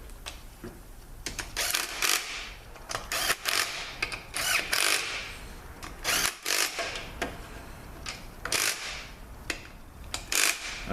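Bolts on a 42RE transmission pump are tightened during a rebuild, heard as many short, uneven bursts of tool noise with brief pauses between them, close and moderately loud.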